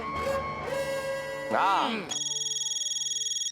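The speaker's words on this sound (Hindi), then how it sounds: "अय्यर का फोन है।" Speech and music give way to a sudden electronic phone ringtone, a bright warbling tone pulsing rapidly and evenly for about a second and a half.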